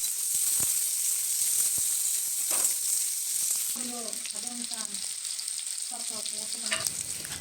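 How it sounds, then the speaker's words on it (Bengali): Potato pieces fry gently with salt and turmeric in a pan on low heat, giving a steady hiss and sizzle. Near the end a few scraping stirs and crackles can be heard. "কেটে রাখা আলুগুলোকে লবণ আর হলুদ দিয়ে হালকা আঁচে ভেজে নেব।"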